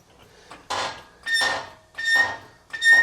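A Harbor Freight Daytona floor jack lifting a Chevy Silverado lets out four sharp squeaks at a steady pumping rhythm, each with a rattling clunk, close by with no talk.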